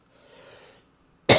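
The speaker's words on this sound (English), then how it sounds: "Excuse my cough, but I do that." One sharp, loud cough close to the microphone after a faint murmur, short and abrupt at the end.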